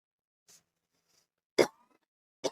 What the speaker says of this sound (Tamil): இருமல்லாம் வருது, ஏன்னு தெரியல.